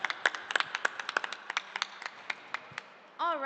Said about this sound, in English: Round of applause for Esteban, please.